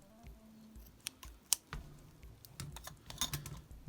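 Scissors snip through the ends of a braided cord floatline for spearfishing, giving soft, close, irregular clicks and cuts over quiet handling noise.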